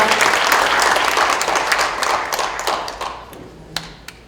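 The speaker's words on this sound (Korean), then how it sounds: "여러분 박수 부탁드립니다" Audience applause greets an arriving guest at a Korean book-launch talk concert, a dense burst of clapping that fades over a few seconds into scattered claps and a final thump.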